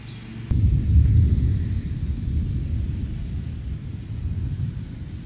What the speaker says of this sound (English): Well, it's a storming now.